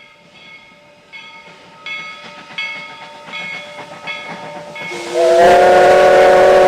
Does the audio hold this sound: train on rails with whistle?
yes